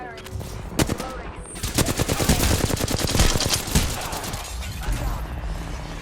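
A video game firefight in which rapid automatic rifle bursts crack out loud and close in dense rhythmic volleys, swelling in the middle and then thinning to scattered shots.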